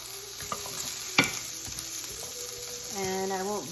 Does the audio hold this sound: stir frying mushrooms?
yes